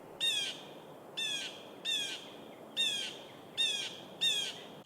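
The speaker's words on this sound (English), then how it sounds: "Blue jay calls. Let's hear what that sounds like." A blue jay gives six harsh, squeaky calls, evenly spaced about a second apart and fairly close, over a faint background hiss.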